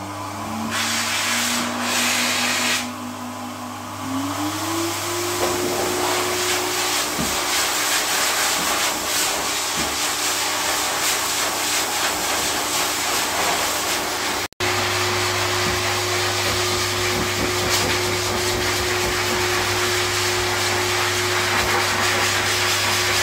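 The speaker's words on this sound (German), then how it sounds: "kein eigentliches Föhnen, sondern es handelt sich nur um ein Gebläse" A steady, loud dog blower drying a husky's coat roars continuously with a droning hum, shifting pitch slightly early on, with brief scrapes and rustles over the top.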